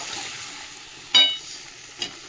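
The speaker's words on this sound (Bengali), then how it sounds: "তারপরে আমি ফোড়ন করবো।" Spices hitting hot oil for tempering vegetables: a steady low sizzle with a sharp crackling burst just after one second and a smaller pop near the end.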